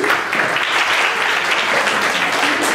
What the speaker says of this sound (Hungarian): Szeretnék egy nagy tapsot tanárolni.